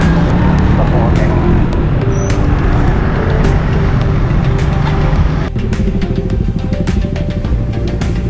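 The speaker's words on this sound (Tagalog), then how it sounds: "Ito lang talaga yung medyo malimit ang traffic." Steady road traffic roars around a motorcycle rider, cars and engines rumbling continuously and close, with people talking over the noise.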